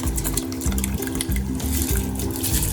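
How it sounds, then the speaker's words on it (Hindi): Soaked rice tipped into a pot of water already at a rolling boil for a sweet zarda rice dish, giving a steady bubbling, splashing wash with a repeating gurgle, close and continuous with no talk. "अब हम इसमें डाल देंगे चावल जो हमने भिगो के रखे थे।"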